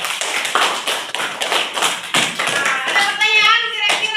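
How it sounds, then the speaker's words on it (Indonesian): Classroom applause for a student group, a run of quick, fairly loud hand claps in uneven rhythm, with voices chattering and calling out over the claps toward the end. "Tepuk tangan untuk kelompok D."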